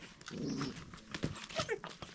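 A German Shepherd in a village makes short dog sounds: a low whimper, then brief yips and a few growling snuffs, fairly quiet and close, with no talking.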